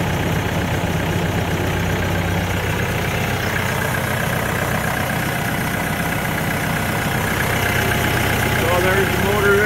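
A TYM 654 tractor engine idles, set up as a snowblower rig: a steady, dense, low mechanical rumble that holds an even level throughout without revving.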